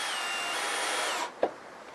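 A power tool cuts along the edge of a clamped wooden board while making straight planks, a loud steady whine that stops abruptly, followed by a single knock and a quiet tail.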